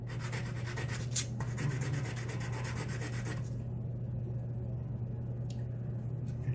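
A small metal lock pin is rubbed back and forth on sandpaper, giving a steady gritty scraping that fills the first half and then thins out over a constant low hum.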